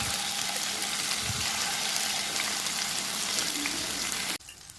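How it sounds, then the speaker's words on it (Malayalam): Boneless chicken pieces marinated in turmeric and salt frying in hot oil, a dense, steady, loud sizzle that runs without a break and cuts off abruptly near the end. "ഇനി നമുക്കിത് എണ്ണയിലോട്ട് ഇട്ട് കൊടുക്കാം കേട്ടോ. എന്നിട്ട് ജസ്റ്റ് ഒന്ന് നമുക്കൊന്ന് ഫ്രൈ ചെയ്തിട്ടെടുക്കാം."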